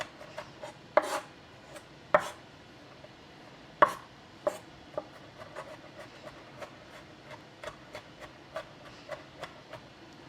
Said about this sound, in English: I'm just gonna do kind of a rough chop on my garlic